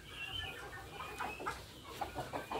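Free-range Merawang chickens cluck in a repeated, uneven rhythm, fairly close and moderately loud, over low background noise on a village poultry farm.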